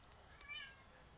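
A single faint cat meow rises briefly indoors, near the middle of a quiet, low-level stretch, while paper is being folded nearby.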